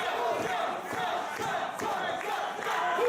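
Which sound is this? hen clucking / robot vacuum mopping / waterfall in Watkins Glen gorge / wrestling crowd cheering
wrestling crowd cheering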